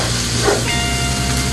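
Vegetables sautéing in a pan give off a loud, steady, close hiss of sizzling oil that holds evenly throughout, with no talking.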